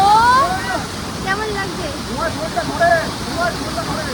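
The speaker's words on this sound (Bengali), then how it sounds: "জলের প্রচণ্ড আওয়াজ এখানে" The Rock Garden waterfall in Darjeeling roars as a steady, close wash of rushing water, with people talking over it throughout.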